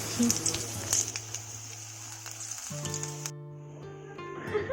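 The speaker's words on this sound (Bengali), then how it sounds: "তেলটা গরম হয়ে গেছে এখন এগুলো দিয়ে দিচ্ছি" Brahmi leaf fritters sizzle in hot oil with a steady crackling fry, mixed with a tonal hum and background sounds, and no clear speech.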